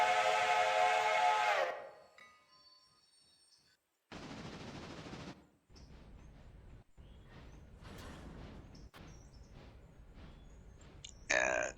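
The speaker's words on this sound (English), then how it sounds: "Here comes my passenger train." A passenger train whistle in the Railroader video game sounds a loud, sustained tone that fades out, followed by bursts of chuffing and rumbling train noise.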